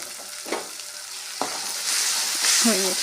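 A tomato-onion masala sizzles in a pan as turmeric powder and red chili paste go in, with a quiet steady fry and a few sharp spatula scrapes and stirs nearby, and no one speaking.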